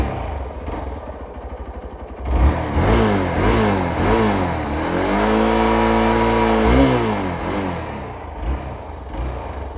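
A BS6 Hero Xpulse 200 motorcycle starts up and its single-cylinder engine and exhaust rev repeatedly, rising and falling through several throttle blips before a longer held rev, close and loud with no talk.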